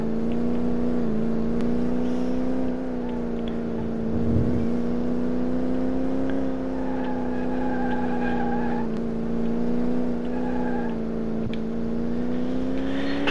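Maserati car engine in the Car Mechanic video game, a steady droning hum held throughout with slight swells in revving, loud and continuous with no talk.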